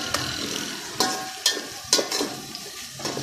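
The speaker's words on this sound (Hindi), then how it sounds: "ये देखिए मसाला अच्छे तरीके से फ्राई हो रहा है" Tomato and green chilli masala sizzles and fries in a pan for chicken pulao, a steady close crackle broken by several sharp stirring scrapes and spatters.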